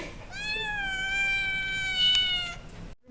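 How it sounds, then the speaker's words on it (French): A cat gives one long drawn-out meow, clear and close, rising slightly then fading, with faint room noise and no talk over it. "Le chat veut s'en aller."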